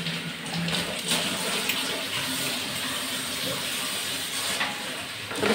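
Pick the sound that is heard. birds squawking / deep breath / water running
water running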